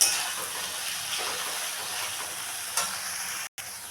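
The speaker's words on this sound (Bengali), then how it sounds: "পোস্তটাকে একটু মিশিয়ে নেব" Fried potatoes with poppy seed paste sizzle softly and evenly in a pan while being stirred together, a faint, steady hiss with a brief scrape and a short silent gap near the end.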